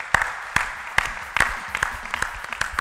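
A church congregation claps in unison, with sharp, evenly spaced beats about twice a second over a low murmur of the hall.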